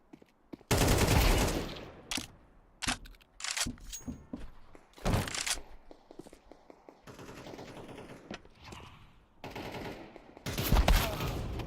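Gunfire in a first-person shooter video game: rapid automatic bursts and single shots in irregular clusters, loud and close, with brief pauses between exchanges.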